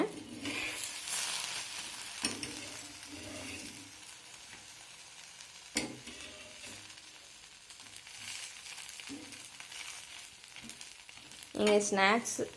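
A bread and milk snack roasts on a hot stone griddle, giving a continuous soft sizzle with occasional louder pops and a crackling flare toward the end.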